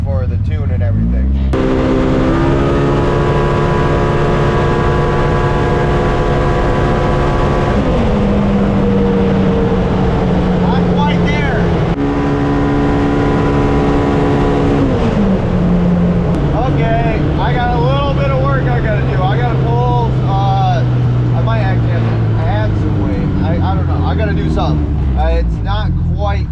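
Polaris Pro R side-by-side with a Stage 2 Aftermarket Assassin's kit, 35-inch tires and adjustable clutch weights, revving and pulling hard through long rising engine sweeps, loud and close, with people talking over the engine toward the end.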